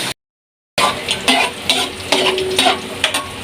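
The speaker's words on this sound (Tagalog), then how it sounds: "start na tayo maggisa ng bawang at sibuyas" Garlic and onion sautéing in a pan, with steady frying sizzle and stirring scrapes at close range, a brief silent gap near the start, and no voices.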